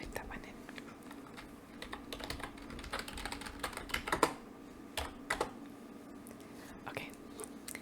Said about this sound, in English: Let me go ahead and type that one in.